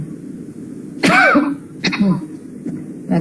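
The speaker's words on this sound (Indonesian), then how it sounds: "batuk." A few sharp coughs and throat-clearing sounds from one person nearby, spaced out over a few seconds against a quiet room.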